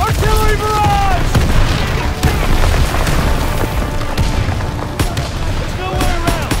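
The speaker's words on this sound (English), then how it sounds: "Get down! Artillery barrage!" Artillery barrage in the Call of Duty WW2 campaign: continuous heavy booms and rumbling explosions with scattered gunfire, loud and dense throughout, with shouting voices and whistling shells layered over the din.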